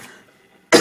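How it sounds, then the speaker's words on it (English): A single loud, close cough from someone with a lingering cough after COVID bursts out near the end, following a stretch of near silence. "I still have a bit of a COVID cough"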